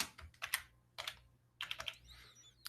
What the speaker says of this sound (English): My wonderful typing skills.